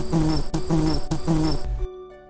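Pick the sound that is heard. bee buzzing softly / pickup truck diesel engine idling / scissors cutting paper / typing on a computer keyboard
bee buzzing softly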